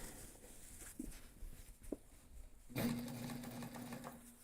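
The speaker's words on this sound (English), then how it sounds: "So now it's just going to be crazy stitching." A sewing machine stitches thick backpack fabric, first in short stops and starts and then in a steady, fast whirring run, heard up close with no voices.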